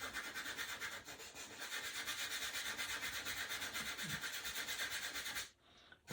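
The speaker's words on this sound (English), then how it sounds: "I'm just going to use some sandpaper over the edge." Sandpaper rubs back and forth along the edge of a Corsair model plane part in quick, even strokes, close and fairly quiet, stopping just before the end.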